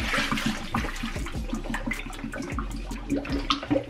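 Soaked sea moss being strained, water splashing and pouring steadily through a strainer close up, with no talking.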